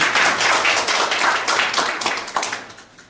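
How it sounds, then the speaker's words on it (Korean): Audience applause at a Korean gathering honoring an arriving guest, a burst of many hands clapping close and loud that thins and tapers over about three seconds, with no talking. "우리 조기석 월드클리너 회장님께서 참석해 주셨는데 여러분 큰 박수로 고맙습니다"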